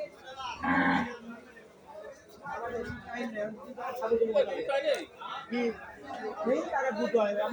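Cattle mooing at a busy cattle market in Narayanganj, several loud nearby moos rising over constant crowd chatter and bargaining voices.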